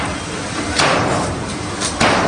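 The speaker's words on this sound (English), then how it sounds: "That is the sound of a hammer bringing down the last remaining store this morning." A hammer strikes a market store being demolished, with a few sharp metallic bangs ringing out over a constant loud wash of outdoor noise, spaced irregularly across a couple of seconds.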